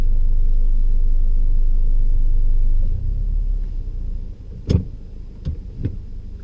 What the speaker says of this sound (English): I want to reverse back a little bit first.